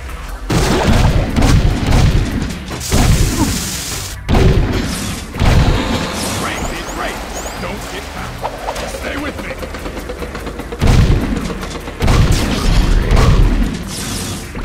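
Repeated heavy explosions and gunfire while a tank is destroyed in the video game Jak II, loud booms in bursts with rumbling tails and mechanical clatter between them, with a voice speaking under the action.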